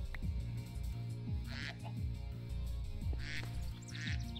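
A duck in a Minecraft modpack gives a few short quacks, spaced a second or two apart, over a dense, constant game background of low droning music.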